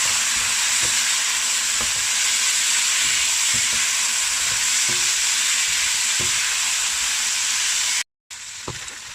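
Beef brisket sizzling in a pan with a splash of fish sauce, a steady loud frying hiss with soft periodic stirring scrapes, then a brief cut and the sizzle resumes.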